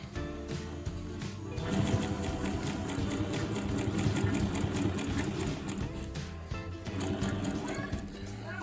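A sewing machine stitches a seam, running steadily with a fast, even mechanical rattle that stays loud and close, dipping briefly twice before picking back up.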